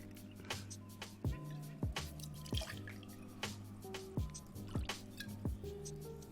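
Fino sherry being poured into a bar measure, with soft dripping and trickling liquid sounds and small wet squishes repeating against a steady low background hum, fairly quiet and close.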